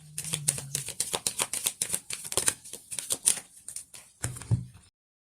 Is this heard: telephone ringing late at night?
no